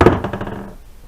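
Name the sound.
hammer striking a rusty suspension part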